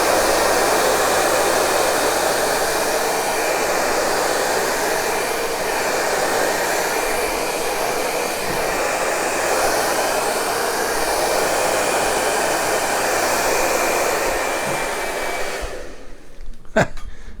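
A blower runs continuously in a loud, steady, hiss-like whoosh for most of the clip, then cuts off near the end, leaving a few faint clicks.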